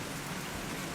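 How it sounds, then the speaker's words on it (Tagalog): Heavy rain falls in a dense, steady hiss close by, with no gaps or voices across the short stretch. "Naabutan po kami ng malakas na ulan eh."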